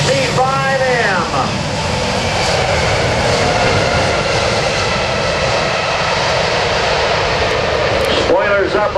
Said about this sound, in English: Let's give a big wave to the crew as they pass by for a nice demonstration of the C-5M.